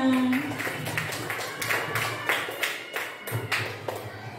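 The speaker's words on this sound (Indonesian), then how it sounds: "Tepuk tangan untuk kita semuanya." A class of elementary school pupils claps hands together in quick, fairly loud, uneven bursts, with a short tone at the start and a faint voice underneath.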